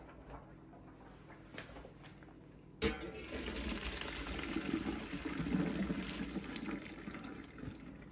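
Cooked spaghetti water pours out of a pot into a sink, a sudden splash followed by a continuous, fairly loud rushing gush of draining liquid.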